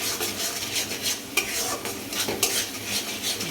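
Masala with chili powder and sugar is stir-fried in a pan: a metal spatula scrapes and clatters rhythmically against the vessel over a soft underlying sizzle, with no talking.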